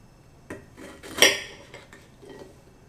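A knife slicing a green Texas Chocolate Bonnet pepper on a board, a few short crisp cuts and taps with one sharper louder cut in the middle, close and fairly quiet, no talking.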